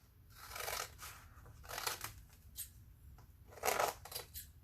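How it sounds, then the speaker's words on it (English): Paper for a Halloween junk journal is cut with scissors in a few close, quiet snips and crisp rustles spread across several seconds. "I'm gonna cut off a piece right here."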